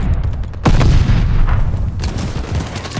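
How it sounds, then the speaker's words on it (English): A stun grenade goes off in a Call of Duty: Vanguard multiplayer battle, a loud, close boom that lands about half a second in and then gives way to a dense, continuous roar of gunfire and explosions. "Stun grenade!"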